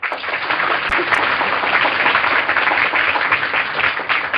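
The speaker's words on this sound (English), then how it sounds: "give the cast the volume of applause they deserve" A radio studio audience at a 1938 broadcast of the radio drama The Shadow applauds the cast in a dense, continuous wash of many hands clapping. Loud and sustained throughout, with no voices.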